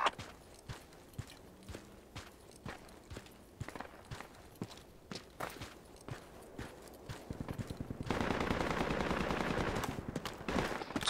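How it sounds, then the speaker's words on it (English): Gunfire in the military shooter Project Reality: repeated sharp shots scattered across the clip, some in quick bursts, with a louder sustained stretch of rapid firing near the end, no talk. "I don't know what he's shooting at."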